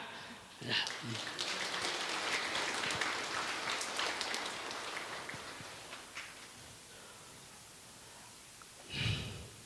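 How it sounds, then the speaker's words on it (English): Church audience clapping for a deacon's helper during a lesson on the Lord's Prayer, a dense sustained patter that swells early and fades gradually, followed by a short burst of noise near the end. "Let's give her a big clap."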